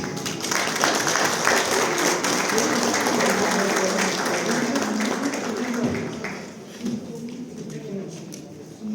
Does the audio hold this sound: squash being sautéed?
no